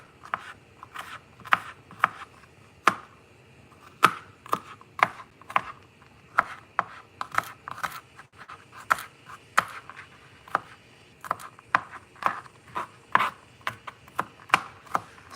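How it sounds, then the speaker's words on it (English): Garlic is chopped with a knife on a cutting board, crisp, irregular taps repeating several times a second, close and clear with no talking. "I'm just cutting up some garlic."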